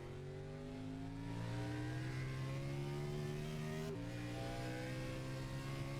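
NASCAR race car in iRacing at Daytona road course, onboard engine drone holding steady revs with harmonic whine, a brief gear-shift dip near the end, continuous and loud with no talk.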